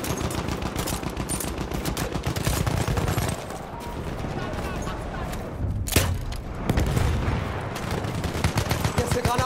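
Enemy machine gun fire in a World War I shooter game, a dense sustained burst of rapid shots with heavy thuds and explosions mixed in, loud and continuous throughout.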